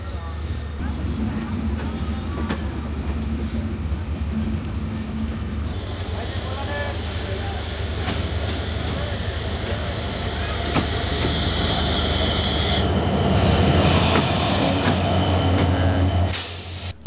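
The Sagardari Express runs on the rails between Chuadanga and Jashore, a steady loud rumble and hiss of wheels and carriages that swells toward the end, with a voice talking over it.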